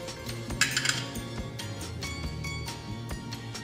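A metal spoon scoops ground coffee into a dosing cup, giving a few light clinks and scrapes close by, with a brighter cluster of metallic taps early on.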